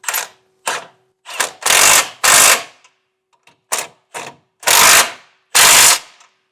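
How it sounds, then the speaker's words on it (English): A ratchet tightens the large bolts of a hidden front-mount trailer hitch under a tow hook in loud, close bursts of fast clicking, several separate pulls with brief pauses between them. "We'll do our 2 large bolts right here, right under our tow hook."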